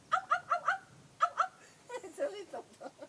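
A man imitates a small dog, with a quick run of four yipping barks, two more, then softer whimpering yelps, close and fairly loud.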